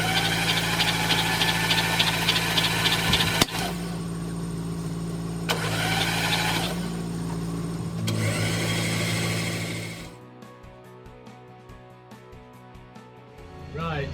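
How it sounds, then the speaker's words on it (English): A Porsche 944, just back from a cambelt and water pump change, cranks over repeatedly with the starter to build oil pressure, in several loud, close bursts of rhythmic churning separated by brief breaks, with the engine not catching. "I'm going to kick it over a few times just to build the oil pressure"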